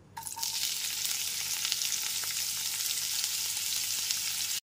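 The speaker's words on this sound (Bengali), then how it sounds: "এতে দিয়ে দিচ্ছি একটা বড় সাইজের পেঁয়াজ কুচি।" Chopped onion with black cumin sizzles steadily in a hot pan, a loud continuous hiss of frying close up with no voices.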